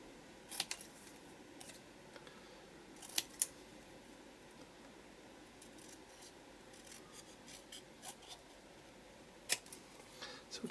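Scissors snip paper trimmings while an art journal page is made, giving a handful of short, crisp cuts spaced irregularly over a quiet, faintly hissing room.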